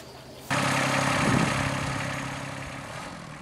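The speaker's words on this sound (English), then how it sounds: "We fire up the tractor with a 12-inch auger" A tractor fitted with a 12-inch auger starts up in a garden and settles into a loud, steady engine drone that slowly eases off a little.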